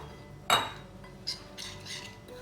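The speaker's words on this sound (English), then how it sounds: "Stir that together." A spoon stirs Bihari caramelized onion chicken curry mixture with water in a pan, giving a sharp clink followed by a few softer scraping knocks against the metal, close and fairly quiet.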